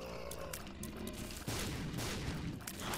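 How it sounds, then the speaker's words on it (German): Explosions from The Binding of Isaac: Rebirth go off in a dense burst, with a sharp louder blast midway followed by rumbling, crackling detonations that continue to the end over a steady low hum. "Die Dinge explodieren aber auch echt häufig."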